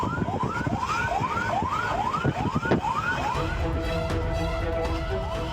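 A fire engine siren wails in rapid repeated rising sweeps as the truck speeds along the Cisumdawu toll road in Sumedang, West Java, loud and close over steady road and engine roar, the sweeps giving way to a steadier tone near the end.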